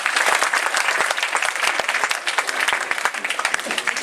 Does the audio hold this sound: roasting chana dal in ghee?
no